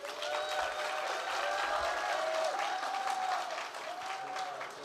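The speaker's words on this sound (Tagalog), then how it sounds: "Mukhang magandang trabaho at malakas ang palakpak." Audience applause at a Filipino community meeting in San Francisco, a sustained, fairly even patter of clapping with a faint tonal whine running through it.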